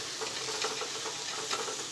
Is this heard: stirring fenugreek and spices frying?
yes